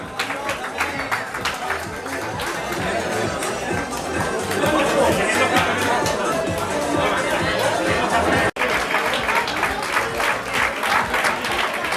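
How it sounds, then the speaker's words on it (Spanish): A crowd applauds loudly and steadily at a mountain race award ceremony in Losar, with chatter mixed into the sustained clapping and a brief dropout near the end. "fuerte aplauso para este campeonato de Extremadura veteranas"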